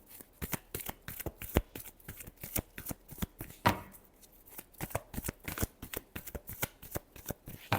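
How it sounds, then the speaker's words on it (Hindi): A deck of tarot cards is shuffled by hand in a steady run of sharp, close riffling snaps and taps, repeating rhythmically for about eight seconds at a quiet level with no talking. "Last shuffle."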